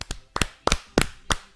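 Five loud, sharp hand claps close by, evenly spaced about a third of a second apart in a slow deliberate rhythm, given in praise of the Rayon Sports football club, with nothing else audible between them.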